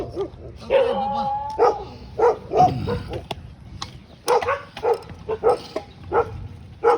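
Dogs in Thailand barking in repeated sharp bursts, close and loud, with yips and some whimpering mixed in, alongside a person talking.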